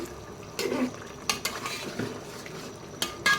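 Meat is set in a pot to cook in a home kitchen. Close metallic stirring clinks and scrapes break through a soft frying sizzle, with a few sharp utensil knocks.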